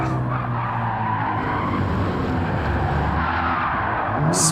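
Race car in a racing video game spinning out, tires squealing and skidding continuously over a loud, close engine roar, the screech holding steady before a brief sharp burst at the end.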